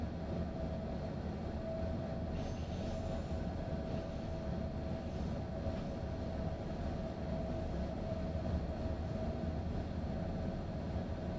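A Nordic midsummer night train running from Oslo to Ål rumbles along steadily, a constant low rolling drone with a faint tonal hum, heard from inside and without talk.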